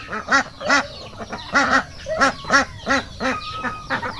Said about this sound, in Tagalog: ito yung mga alaga natin na bibi